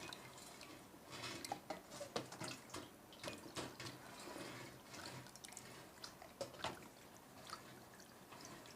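Cold water poured over a glass bottle being cut, a faint, continuous trickle and splash with irregular drips, quiet and close, no talking.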